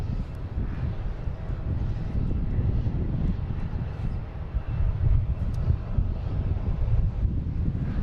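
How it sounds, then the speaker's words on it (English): A JetBlue jet airliner lines up on the runway at Boston Logan airport, its engines a steady low rumble heard from a distance, blended with wind buffeting the microphone. "We got a JetBlue heading to Fort Myers, lining up next"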